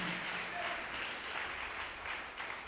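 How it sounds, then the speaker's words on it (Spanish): A church congregation applauding during a sermon, a steady wash of many hands clapping together throughout, fairly distant and reverberant with no clear speech over it. "Dale fuerte el aplauso al Señor."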